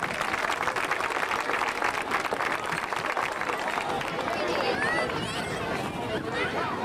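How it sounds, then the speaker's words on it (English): A crowd at a high school football team dedication for the Howe Bulldogs claps and cheers in sustained, dense applause, with a few whistles and voices rising above it near the end. "let's give them all a round of applause"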